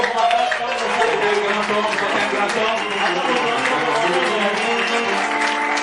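Congregation applause and cheering at a church gathering, dense continuous clapping with a crowd's voices and a tonal background underneath, loud and steady.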